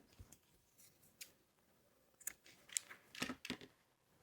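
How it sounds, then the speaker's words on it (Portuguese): Scissors snip through crochet yarn at the finish of a quick single-crochet bag, a few soft, quiet blade clicks spaced apart near the end, close and otherwise calm. "Eu vou cortar o meu fio."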